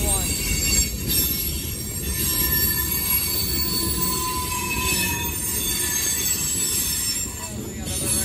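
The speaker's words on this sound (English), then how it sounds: "There's the end of the train, all right." The end of a freight train passes, rumbling steadily with high, sustained wheel squeals ringing over it, the sound holding at a constant loud level before easing slightly near the end.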